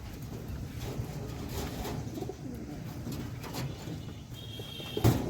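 Soft cooing of sick pigeons being treated with injections mingles with rustling and handling noises nearby, ending in a brief sharper clatter.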